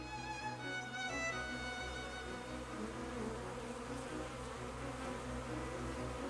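A bee buzzes steadily while gathering nectar from flowers, a continuous close drone with harmonic hum, heard alone throughout.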